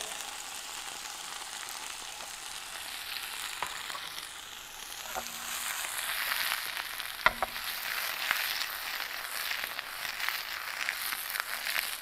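Broccoli and baby corn stir-fried in a pan give off a steady, bright sizzle, with occasional clinks and scrapes of a utensil stirring the vegetables, close and continuous.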